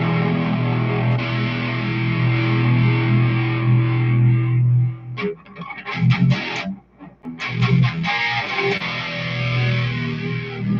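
An electric guitar played through a distortion effect rings out in sustained, buzzing chords, then breaks into choppy strummed bursts and short gaps before the held, saturated tone returns.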